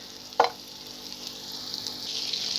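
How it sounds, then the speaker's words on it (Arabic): Butter melting in a pan for caramelized sweet potatoes, giving a soft steady sizzle that grows slightly brighter, with a single sharp clink near the start. "الزبده هي ابتدت تسيح بقى معانا"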